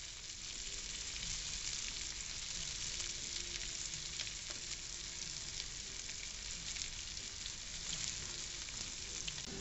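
Bacon, garlic, onions and serrano peppers sautéing in a pan for liver and onions, a soft continuous sizzle and crackle heard alone at low volume.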